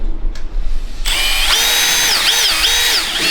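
A power drill drives self-drilling screws into steel deck framing, revving up sharply after a brief quiet start, then whining steadily with pitch dips as each screw bites and seats, loud and close.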